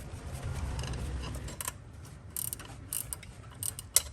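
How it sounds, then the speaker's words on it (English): A ratcheting box-end wrench clicks while turning a fan clutch bolt on a Toyota FZJ80 Land Cruiser, with short bursts of close, crisp ratchet clicks over a low mechanical rumble. "these box end wrenches have a ratcheting side too"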